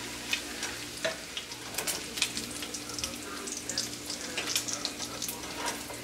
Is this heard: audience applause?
no